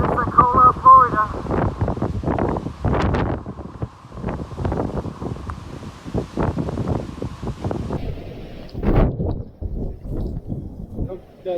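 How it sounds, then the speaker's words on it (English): Intense hurricane winds of Hurricane Sally in the eyewall at Pensacola, Florida, 2020, heavy gusting roar buffeting the microphone in loud irregular bursts, while a person talks throughout. "The building moves with the wind."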